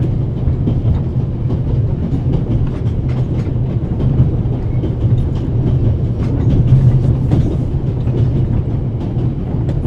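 A train rolls along rails in the video game The Raven, a loud continuous low rumble with steady clatter throughout, like riding inside a railroad car.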